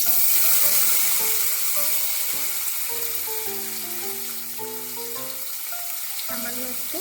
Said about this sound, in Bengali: এবার এই তেলে আমি পনিরগুলো হালকা করে ভেজে নেব।